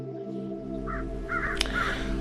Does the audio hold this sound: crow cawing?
yes